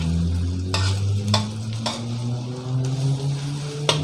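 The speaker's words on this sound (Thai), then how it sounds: "ไม่ต้องไปบี้ข้าวเลยเวลาผัด พลิกไปพลิกมาอย่างนี้" Rice stir-fried with shallots in a hot pan, tossed and flipped rather than pressed, a loud close sizzle with a low hum beneath and a handful of sharp utensil scrapes at irregular intervals.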